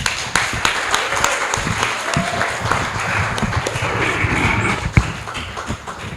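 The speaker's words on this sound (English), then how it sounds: "Everyone give Tanya another round of applause." A community event audience gives a round of applause, loud and sustained clapping from many people with a few sharper nearby claps standing out and faint talk underneath.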